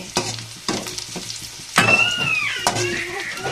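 Idli upma ingredients, leftover idli pieces, frying and being stirred in a pan, with steady sizzle and scraping stirs, a few sharp clinks of the spoon against the pan, close and fairly loud.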